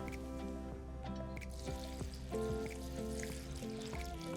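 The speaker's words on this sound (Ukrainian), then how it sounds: "Після цього я беру і додаю 700 грамів води." Water pours onto hot peppers in a jar for fermenting, producing quiet bubbling, gurgling and dripping that continues over a low steady hum.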